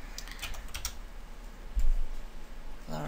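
Keys clatter on a computer keyboard in a quiet room, a short burst of typing strokes with a heavier thump near the middle, close and fairly clear.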